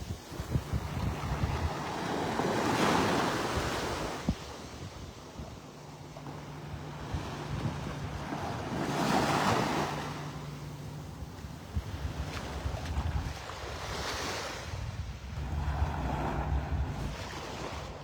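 Ocean waves wash in on a Florida beach at Vanderbilt Beach in North Naples, rising and falling surges every few seconds, close and loud, with strong wind buffeting the microphone throughout and no voices.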